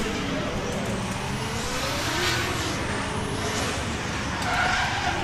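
A 1JZ-engined Nissan S13 drift car spinning out during pro qualifying at the British Drift Championships at Teesside, a loud, continuous engine roar with tyre screech that rises and falls as the car slides.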